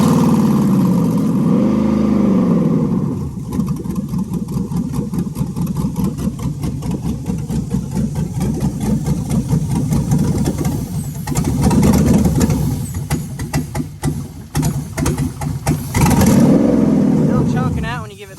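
A 5.3 LS V8 swapped into an OBS truck runs loud and steady, with a few revs rising and falling, while someone talks over it in places.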